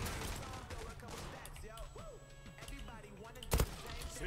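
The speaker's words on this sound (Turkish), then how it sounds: "Bak şöyle artık vuruyorum ya." Gunfire from an M468 rifle in the online shooter Zula, scattered sharp shots over busy game noise and a steady tone, with one louder close burst near the end while someone talks.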